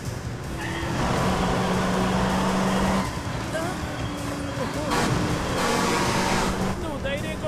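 Truck engine droning as it drives along a road in a horror film, with a steady rumble and rising and falling revving under occasional voices.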